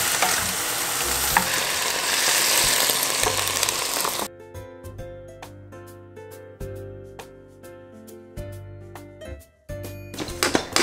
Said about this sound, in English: You add the sauce in and you stir it together.